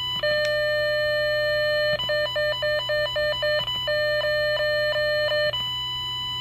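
Test tones from a VDV MapMaster 2.0 cable tester: a steady electronic tone steps through four distinct pulsing patterns of short, evenly spaced beeps, loud and close, with no talk over them.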